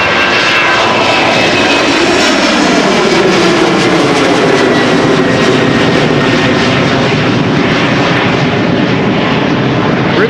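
A Boeing 747 jet departs Amsterdam Schiphol Airport with a loud, close, continuous engine roar that stays steady and dense throughout, with no voices.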